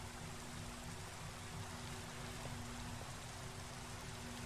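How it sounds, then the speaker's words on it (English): Steady Minecraft rain from the Mechanical Mastery modpack, a constant soft hiss that stays even and faint throughout, with a low hum beneath and no voices. "I need to get rid of this rain."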